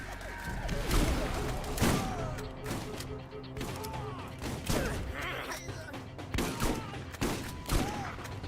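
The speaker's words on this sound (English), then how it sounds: "Shotgun." Shotgun fire in the Borderlands video game, repeated loud blasts at irregular intervals, mixed with game clatter and crashes throughout.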